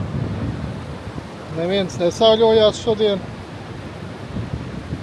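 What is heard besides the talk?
wind and sea waves on the shore in Crete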